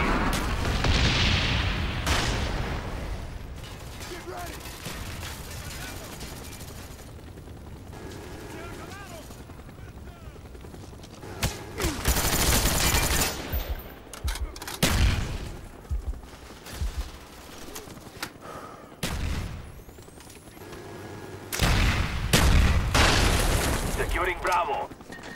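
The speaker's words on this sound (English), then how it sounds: "Napalm strike coming in." Napalm strike in a video game on a firing range: booming explosions and rattling gunfire roll through a dense battle soundscape, with radio-style voices calling out over the din.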